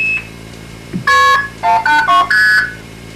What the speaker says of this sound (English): we have just dialed the overseas sender in White Plains, New York